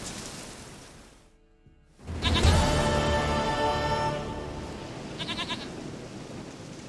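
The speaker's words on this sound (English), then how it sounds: "Goat of mine, dearest, sweetest goat." A goat bleats in The Witcher 3, a loud, close, drawn-out quavering cry that rises after a brief quiet gap and trails off, with a fainter echoing tail.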